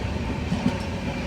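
Ala Hazrat Express sleeper train rolling into Anjar station in Gujarat, a steady loud rumble of wheels on track with a couple of soft clacks, heard from inside the carriage.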